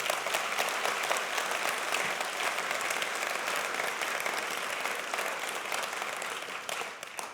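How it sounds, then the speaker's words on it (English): A large audience gives a sustained, dense round of applause at a city's State of the City address, steady and loud throughout before tapering slightly at the end. "I think we should give Susan one more round of applause."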